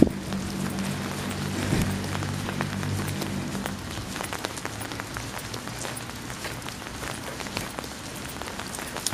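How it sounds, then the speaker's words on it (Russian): Steady rain patters on a surface close by, a dense continuous hiss of drops with a brief low hum near the start and no voices. "Дождь."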